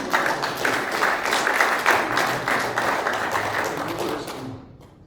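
A church congregation breaks into applause during a sermon, a dense burst of many hands clapping at a strong, steady level for several seconds before fading out abruptly at the end.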